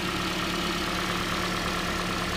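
A 2012 Scion xD's small engine idles steadily under the open hood, a smooth, even hum with no revving, heard up close on its own.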